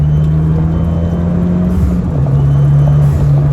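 A heavily tuned Abarth 595 with carbon parts accelerates on a closed road, its loud engine droning steadily close by, then dropping in pitch as it shifts into third gear partway through and pulling again.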